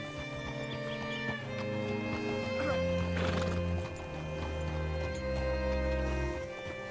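A video game horse whinnies while hooves clop in the foreground, set against a steady synthetic musical drone.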